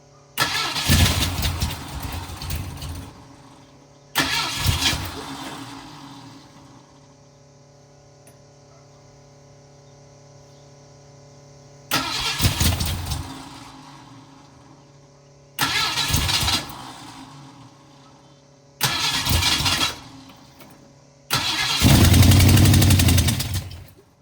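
A carbureted car engine cranks and turns over in several separate bursts with pauses between them, ending with a louder, rougher run; close and loud.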